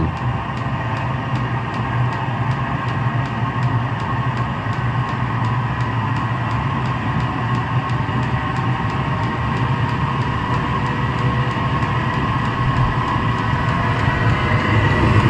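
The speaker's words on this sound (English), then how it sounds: "And there we go, full ignition." A diesel heater runs at full ignition after a glow plug repair: a steady mechanical drone with a low hum and a faint regular ticking, unchanged throughout, loud and close.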